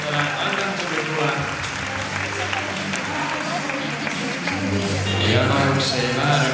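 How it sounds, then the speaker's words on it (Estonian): A large grandstand crowd applauds dancers at an Estonian Latin dance championship final, dense sustained clapping that swells near the end, with a voice speaking over it. "Vaatame, millise aplausi meelitame välja meie suurel tribüünil"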